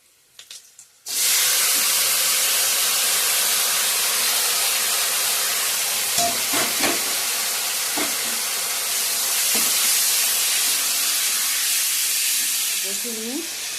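Chicken pieces dropped into hot oil seasoned with bay leaf, whole garam masala, dried chillies and onion, bursting into a loud sustained sizzle after a moment of quiet, with occasional stirring clatters and a brief voice.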